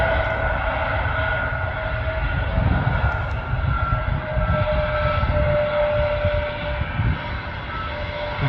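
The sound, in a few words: Lufthansa airliner landing and braking at Manchester Airport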